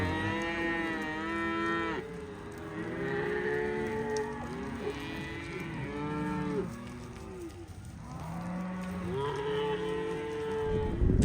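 Several cows moo loudly and repeatedly, long drawn-out calls overlapping one another close by, with no talking.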